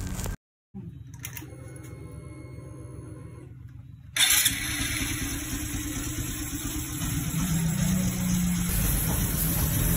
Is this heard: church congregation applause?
no